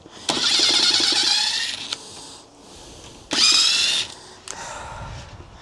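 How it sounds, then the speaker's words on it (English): A power driver drives screws into oak while hanging shaker-style doors, with two loud whirring bursts of motor and screw grinding separated by short pauses, close up and free of talk. "the screws will get hot when you're constantly screwing them, especially when you're doing it into oak"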